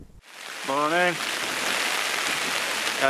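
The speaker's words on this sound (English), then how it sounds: "the weather is as promised, dreadful. Very, very wild and very windy and very rainy." Heavy rain pours steadily on a tent while wild camping, a loud, dense hiss that fills the whole stretch, with a brief voice heard over it near the start.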